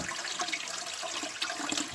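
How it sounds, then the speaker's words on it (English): A faulty toilet runs water continuously into the bowl, a steady hissing rush of flowing water with no voices. "It'll just empty it into the bowl."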